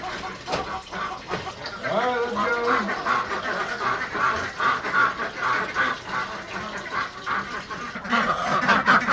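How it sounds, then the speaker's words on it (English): Farmyard ducks quacking repeatedly in a busy, overlapping chorus, fairly close and at moderate volume, with bursts of calls throughout. "Waddle, ducks, waddle."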